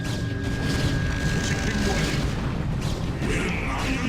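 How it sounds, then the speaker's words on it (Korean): Protoss units fire weapons in a StarCraft original campaign battle, producing continuous overlapping booms and blasts at a steady loud level, with faint game effects layered over a low rumbling bed. "그만 좀 쏴라 그만 좀 적당히 쏴 적당히"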